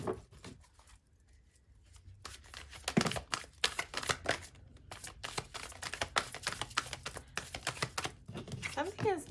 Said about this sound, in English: We're just going to shuffle one more time.